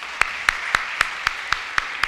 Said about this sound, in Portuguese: E uma salva de palmas para a nossa nova presidência da Câmara de Vereadores